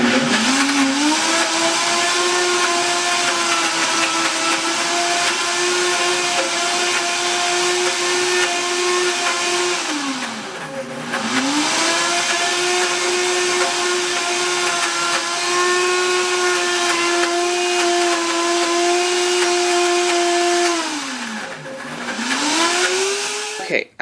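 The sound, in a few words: Oster Versa blender blending almonds into almond butter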